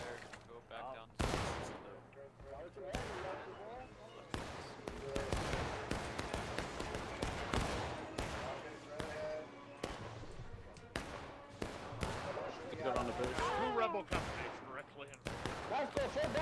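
Massed musket volleys and scattered rifle shots in a Civil War video game battle of Union against Confederate regiments, dense overlapping cracks, some sharp and near and others distant, rolling on without pause while a voice talks underneath.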